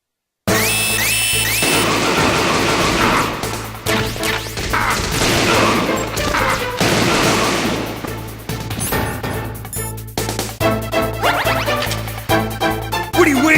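Gunfire in the Metal Gear Solid video game: dense, loud crashes, impacts and shot bursts over a steady low music drone, with sharp hits and metallic zings scattered throughout.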